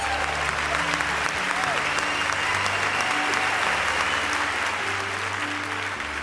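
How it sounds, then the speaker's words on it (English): An audience at a senior school closing ceremony applauds Grade 10 students with continuous, even clapping, a broad steady wash lasting several seconds over a low background hum. "Let's give all of our Grade 10 students a round of applause"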